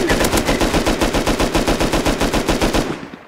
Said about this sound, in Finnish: En mä tiedä kuoliko se, mutta ammuin ainakin paljon.